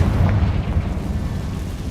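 Confringo blasting spell explosion in Hogwarts Legacy, a loud, rumbling, sustained blast with deep low-end roar that holds steady without a clear sharp onset.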